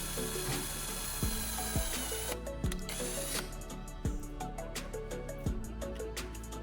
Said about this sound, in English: Next, I drill a small hole on the charger's top cover.